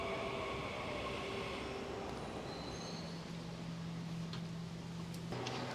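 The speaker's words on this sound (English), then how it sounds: "So this is the Ipoh train." Steady rumble of a passenger train on the Ipoh line near the old Kuala Lumpur railway station, continuous and moderately close with a brief squeal and clatter near the end.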